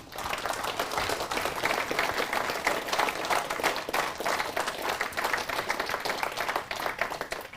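Audience applause fills the hall at the close of a talk at the RSGB 2022 amateur radio convention, a steady, dense clatter of many hands clapping that holds at full strength for several seconds.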